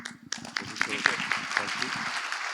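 After a lecture on soil structure interaction modeling, an audience applauds with a steady patter of clapping, fairly soft and slightly distant, while a voice speaks over it.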